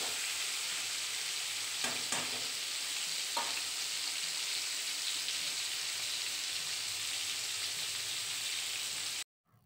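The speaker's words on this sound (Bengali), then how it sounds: "মাংসগুলোতে নুন হলুদ গুঁড়ো মাখিয়ে রেখে দিয়েছিলাম, এখন এগুলোকে একটু ভেজে নিচ্ছি" Pieces of meat rubbed with salt and turmeric fry in oil, giving a steady close sizzle with a few scraping stirs early on before it cuts off abruptly at the end.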